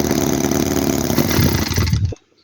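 Vintage Chinese Holt H75 four-cylinder engine running loud and close with a steady, busy drone, revving up from idle, then cutting off abruptly near the end into near silence.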